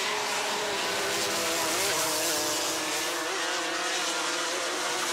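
Rotax Max 125cc racing karts, roughly 30 horsepower, race in a heavy-class final, their engines making a loud, continuous high-pitched drone that holds steady throughout.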